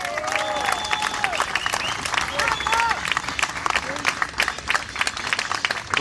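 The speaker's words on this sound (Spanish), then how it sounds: "El aplauso para él." Applause from the audience at a union gathering in San Martín, a dense sustained clapping that fills the room, with voices and shouts mixed in over it.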